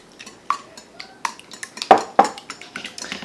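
Omelet eggs are beaten with soy sauce in a bowl, making quick clinks and taps of a utensil against the bowl in an uneven rhythm, close and clear.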